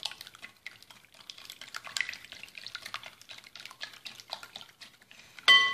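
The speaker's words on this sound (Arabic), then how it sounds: "الآن في إناء وضعت البيض، 3 حبات البيض، نخفقهم هكذا بالتراب يدوي، نضيف لهم الزيت" Three eggs and oil are whisked by hand in a bowl, a quiet, rapid run of soft liquid clicks and slaps, close and steady, ending in a brief louder knock.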